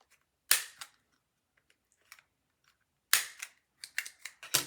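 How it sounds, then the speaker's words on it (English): Corner rounder punch snapping through paper corners in a craft project: two sharp loud clacks a few seconds apart, then a quick cluster of smaller clicks and snaps, close and alone. "where's my corner rounder? I do want to round the corners"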